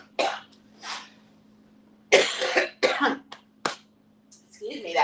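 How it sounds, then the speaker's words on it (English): A woman coughs several times in close, harsh bursts with short pauses between them, followed by throat clearing, over a faint steady hum. "that cough is still there"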